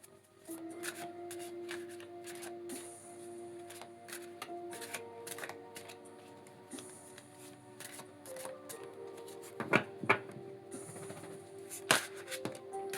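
Tarot cards shuffled and drawn one by one for a reading, a run of soft riffling flicks and light taps, close and quiet, with a few sharper snaps toward the end.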